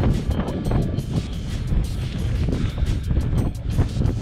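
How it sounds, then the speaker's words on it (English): Strong gusty wind on a mountain ridge buffets the microphone with a continuous loud roar and rumble, no voices. "It is windy as hell"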